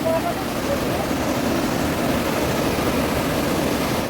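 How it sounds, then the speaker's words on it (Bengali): Rushing water of a waterfall near Netarhat, Jharkhand, a steady, dense broadband roar that stays loud and unbroken throughout, with no talk over it. "জলের সাউন্ডটা শোনো কত জলের সাউন্ড"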